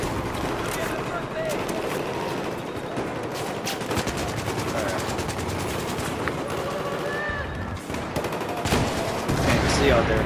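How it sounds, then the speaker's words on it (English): Rapid bursts of video game gunfire rattle through a dense, busy battle mix, with shots and explosions layered continuously over about ten seconds while a voice talks over the action. "Shooting at me."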